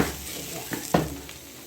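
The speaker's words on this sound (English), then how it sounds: "It's like frying the rice." Rice sizzles in hot oil with a steady crackling hiss, broken by a few sharp scrapes of a utensil stirring against the pan.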